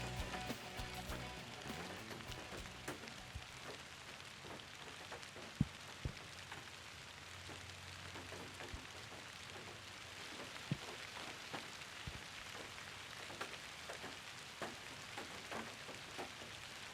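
Rain falls through autumn woods in Tennessee, a soft steady patter with scattered distinct drops and occasional sharper taps, fairly quiet and without speech.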